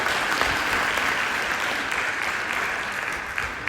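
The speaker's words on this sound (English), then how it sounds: "Let's give Dal another round of applause for hosting this afternoon." An audience applauding at a memorial gathering: dense, sustained clapping from a crowd, steady and fairly loud throughout.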